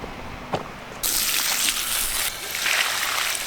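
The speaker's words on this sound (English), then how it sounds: "He's watering this tiny cherry tree right here." A child waters plants and a small cherry tree outdoors on a farm; a brief click is followed by a steady hiss and splash of water pouring onto soil and leaves, fairly close.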